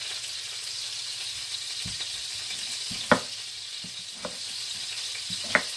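Chopped onion frying in a pan for curry, a steady close sizzle with a few sharp clicks and taps of stirring, no voices.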